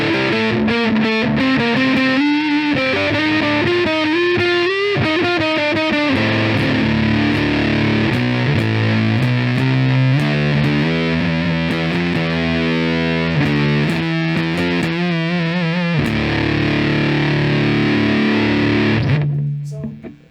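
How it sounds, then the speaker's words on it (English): Electric guitar played through a silicon Fuzz Face pedal with the fuzz turned all the way up, giving a thick, saturated distorted tone over about twenty seconds of chords and single-note riffs before it cuts off. "So here's a bit of the fuzz face on its own."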